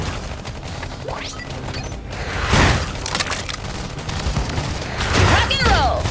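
Grenade explosion in a Halo-style space marine shooter against the Fell, a loud crashing blast amid scattered gunfire and game noise, with voices shouting over the combat.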